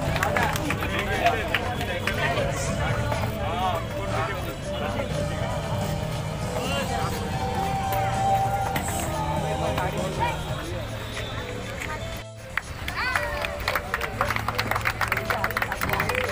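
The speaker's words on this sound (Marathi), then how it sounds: "पुन्हा एकदा जोरदार टाळ्या होऊन जाऊ दे" Applause and cheering from a crowd at a children's contest prize ceremony, steady clapping that runs on and mixes with crowd chatter before picking up again after a brief dip.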